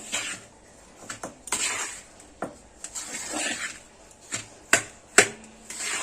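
A spoon stirs powdered sugar into roasted semolina in a pan, making irregular sharp scrapes and metallic knocks between quieter rubbing, close and clear.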